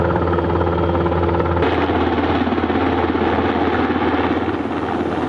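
A French military NH90 helicopter evacuating patients from Metz roars loud and close, its rotor thrum steady and constant throughout.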